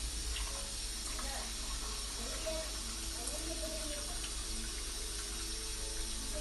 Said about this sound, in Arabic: الان غادي نضيف الماء حتى نغطي داك الحمص ديالي